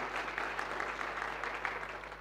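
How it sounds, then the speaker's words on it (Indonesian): Church congregation at a sermon gives steady, fairly faint applause, a continuous patter of many hands heard over a low electrical hum. "Ya, boleh beri tepuk tangan."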